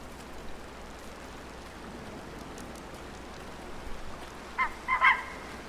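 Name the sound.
geese honking in video game Way of the Hunter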